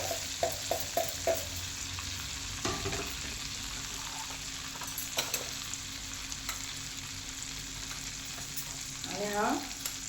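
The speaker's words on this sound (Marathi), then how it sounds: "तेल बटर तापलंय, त्याच्यामध्ये आपण हे जिरा टाकू" Cumin seeds fry in hot oil and butter, a steady sizzle with a few quick taps at the start and occasional stirring clatter, close and fairly quiet.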